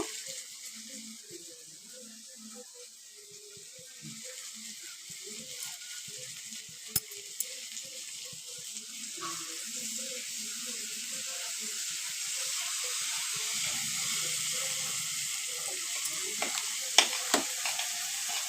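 Pasta ingredients with salt being stirred in a pan with a spoon, with soft scraping and clinks over a low sizzle that grows steadier, a few sharper taps near the end, no voices.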